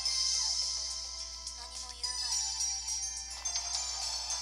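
A phone ringtone in the Steins;Gate visual novel plays a bright, repeating electronic melody at moderate volume, steady for several seconds with no talk over it.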